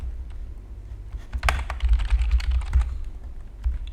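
A password is being typed on a computer keyboard, a quick run of close, crisp key clicks with a slightly denser burst in the middle.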